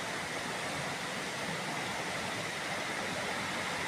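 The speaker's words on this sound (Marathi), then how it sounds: "तो तुम्हाला आवाज जो येतो तो हा पर्याचा आवाजच आहे" A stream beside a village house in rural Konkan flows under a small bridge, giving a constant, even rush of water that stays steady throughout with no voices.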